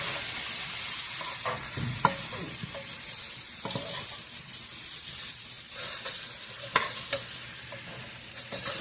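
Herb-crusted chicken thighs shifted around in a hot frying pan with olive oil, a steady sizzle broken by scraping stirs and clacks of a utensil that grow more frequent toward the end.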